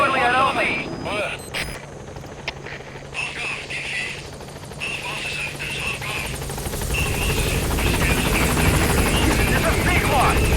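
Helicopter rotor drone from Metal Gear Solid V: The Phantom Pain arriving at a landing zone, a steady chopping whir that swells louder toward the end, with game radio chatter and other sounds layered over it.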